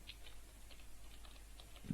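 Faint, quick keystrokes tapped on a computer keyboard while writing JavaScript code, a loose run of light clicks over a steady low hum, with a slightly louder tap near the end.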